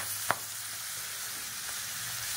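Large prawns fry in a pan in a home kitchen, giving a soft, steady sizzle close by, with one small clink of a utensil early on.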